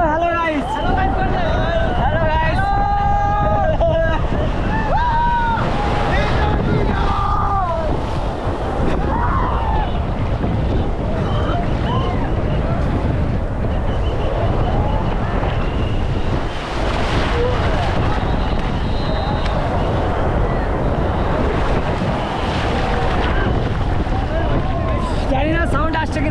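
A boat ride on the sea at Digha, with steady wind buffeting the microphone and waves and surf washing continuously throughout, while people talk and shout excitedly over the noise.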